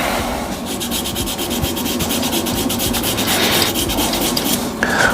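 Sandpaper works steadily over a shaving brush handle, producing loud, rhythmic back-and-forth rasping strokes close to the listener, with no talk.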